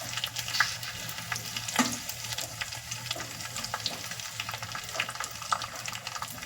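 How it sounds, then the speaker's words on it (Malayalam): Chutney ingredients dry-roasting in a pan over a gas flame give a steady, close sizzle with scraping stir sounds and occasional louder crackles throughout. "കരിയാതെ ഇങ്ങനെ വറുത്തെടുക്കണം, ചുട്ടെടുക്കണം."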